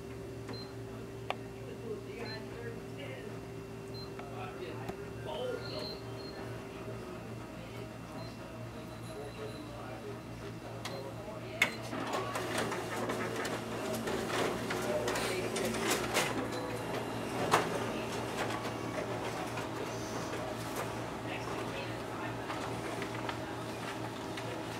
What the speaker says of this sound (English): test out the document feeder as well as the stapling feature on our internal finisher